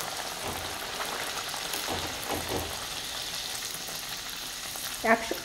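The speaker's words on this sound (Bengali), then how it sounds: "এখন তেলে ছেড়ে দেবো।" Luchi, puffed flatbread dough, dropped into hot oil, giving a continuous close frying sizzle with soft bubbling swells and a brief sharp clatter near the end.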